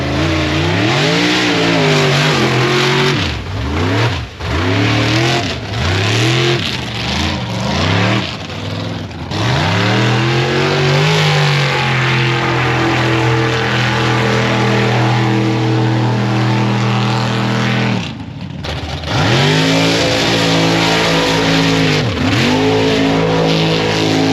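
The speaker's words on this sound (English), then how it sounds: "That's that purple Bronco that rolled a couple weeks" A purple Ford Bronco's engine roars and revs repeatedly at a Labor Day mud bog, loud and close, with sharp throttle swells and drops over a constant crowd-and-engine din.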